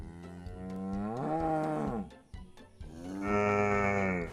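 Cows mooing, provoked by a boy: two long, loud, deep moos, the second rising in pitch, close by and with no speech over them.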